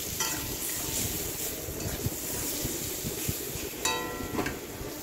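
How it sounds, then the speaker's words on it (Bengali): Mango pieces being stirred and fried in hot oil in a pan, giving a steady, low sizzle with occasional scraping clicks of the spoon, heard close and alone. "তো আমটাকে আমি একটু নেড়ে চেড়ে নিচ্ছি তেলের মধ্যে"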